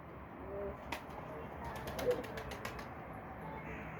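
Mardin tumbler pigeons in a loft, faint soft cooing with a few brief bursts of wing flapping against a quiet background hum, no talking.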